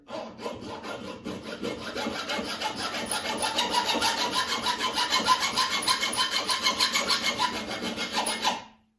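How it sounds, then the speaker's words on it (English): A badly worn hand file rasps steadily over wood in fast, even back-and-forth strokes, a dense scraping rhythm close up that continues unbroken for several seconds and then stops abruptly. "You don't really want to go both ways when you're filing like that"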